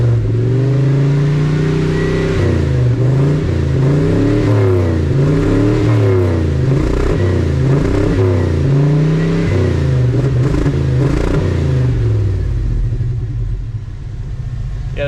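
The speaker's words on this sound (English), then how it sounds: "I'm not even like flooring it or nothing. I'm like barely cracking the throttle." A 1980 Dodge with a Dodge Magnum engine runs rich on a four-corner-idle carburetor, revving repeatedly in loud, close blips that rise and fall in a steady rhythm, then settle back toward idle.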